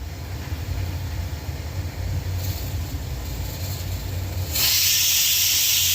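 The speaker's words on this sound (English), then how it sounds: "That's the first whistle." Steam hisses steadily from a pressure cooker of kappa, then bursts into a much louder, sharper jet as the whistle releases near the end, heard close and alone.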